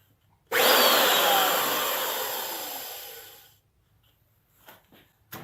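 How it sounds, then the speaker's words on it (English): A wood router plunges into a 2x4 to cut a notch for a keyhole hanger, starting abruptly with a loud, high whining roar that holds for about three seconds, slowly fades as it winds down, and leaves faint clicks afterward. "these routers, they are exceptionally noisy"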